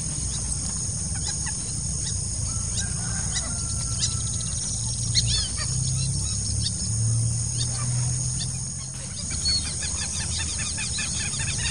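Common moorhens calling in a rural backcountry wetland, with many bird calls and chirps scattered over steady outdoor ambience and a low rumbling background, moderately distant.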